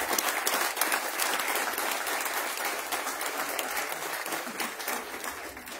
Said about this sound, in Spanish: Brindemos un fuerte aplauso, por favor.